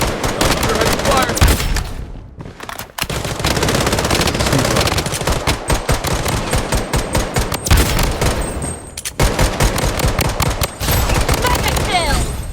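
Rapid, loud, sustained automatic fire from an FN F2000 rifle in the shooter game Blood Strike, coming in long bursts with a few short pauses, plus game announcer voice lines.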